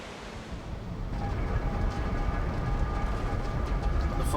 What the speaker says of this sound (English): Oh, it's windy as fuck.